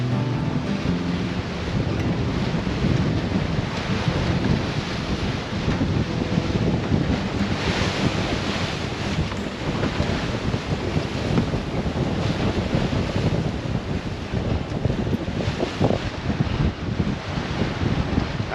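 Pacific Ocean waves slosh and rush around a sailboat near Cape Caution, with steady buffeting wind over the microphone. The roar stays loud and continuous throughout, with no voices.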